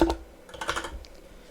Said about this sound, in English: If we hit Enter and type in Goodbye World